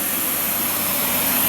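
Miele S6220 Cat & Dog canister vacuum running at close range, a steady, loud, broadband whoosh of suction with no breaks and no talking over it.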